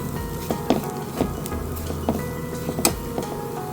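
Chilli powder masala for pork roast fries in a pan under steady stirring. A loud, close sizzle carries throughout, with repeated scraping and knocking of the spoon against the pan.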